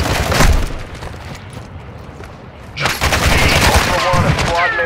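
Loud, dense gunfire while a squad is under enemy fire in Call of Duty DMZ on Ashika Island: a heavy burst, a lull of scattered shots, then sustained rapid fire with booming impacts.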